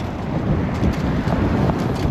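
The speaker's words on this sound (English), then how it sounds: "This is some very ferocious wind." Strong, ferocious wind gusting over a microphone on a cold bike ride, a steady loud broadband roar with brief surges, close and unbroken throughout.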